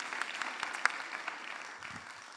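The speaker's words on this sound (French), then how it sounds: "Vous les applaudissez, s'il vous plaît." Applause from an audience at a commerce awards ceremony in a hall in Pau, made of steady dense clapping with a few sharper claps standing out, moderately distant and fairly faint.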